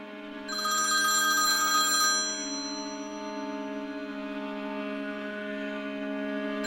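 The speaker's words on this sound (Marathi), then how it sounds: "हो आनीसो फोन करता." A telephone rings with a bright electronic trill that then settles into a softer, sustained ringing tone.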